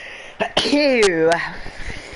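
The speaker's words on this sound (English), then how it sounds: "I'm sorry, I need to sneeze." A short, sharp sneeze bursts out near the start, followed by a drawn-out voiced exhale and a few soft sounds.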